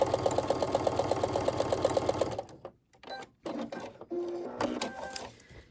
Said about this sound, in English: So I've got my machine set to a small stitch length, and I'm going to sew that first line.